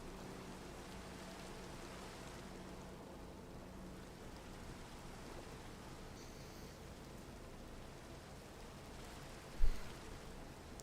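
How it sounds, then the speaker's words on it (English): Rain in the Minecraft video game falls as a soft, even hiss throughout, faint and constant, with a single brief thump near the end. "It's raining?"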